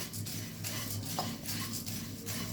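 Puffed rice dry roasting in a pan over a medium flame, giving a steady light rustle and scrape of stirring with faint clinks of a utensil against the pan, close and continuous.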